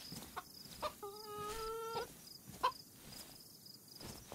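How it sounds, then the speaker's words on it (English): A chicken in the DayZ Livonia survival game clucks with short, faint calls over quiet outdoor field ambience, with a few sharp game sounds mixed in. "There's a chicken."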